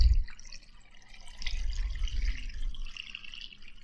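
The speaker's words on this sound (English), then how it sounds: "all we have to do next is to just cover the bones with enough water" Filtered water pours from a jug over chicken bones in a slow cooker, a soft trickling splash with dull low thuds, quiet and close.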